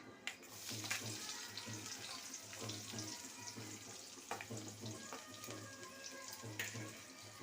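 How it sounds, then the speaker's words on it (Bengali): Chopped onions frying in oil in a pan with cloves, cardamom, cinnamon and black cumin, giving a steady low sizzle with occasional crackles and spoon scrapes, nearby and fairly quiet, with no talking. "পেঁয়াজটাকে ভেজে নেব"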